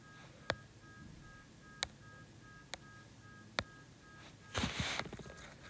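Telephone keypad tones sound in a quiet room during a maths lesson: four short, sharp beeps spaced about a second apart, a faint two-tone hum behind them, then a brief rustling burst near the end.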